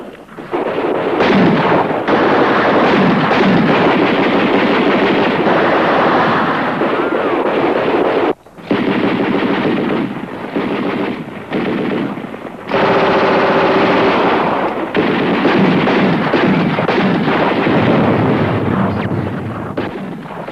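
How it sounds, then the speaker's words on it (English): Heavy automatic gunfire rattles on almost without pause in a 1962 television drama, loud sustained bursts with only brief breaks, dense and overwhelming throughout. "That is heavy automatic fire."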